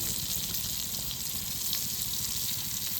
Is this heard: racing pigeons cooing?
no